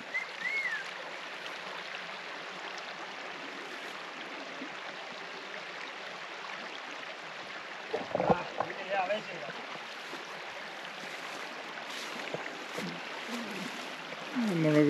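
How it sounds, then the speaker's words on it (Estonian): Flowing river water during a wade across a river on a fishing trip in Lapland, a steady broad rushing close by with splashy disturbances partway through, and a voice talking over it. "Vesi ei olegi isegi nii külm, kui oleks võinud arvata. Esimene jõeületus."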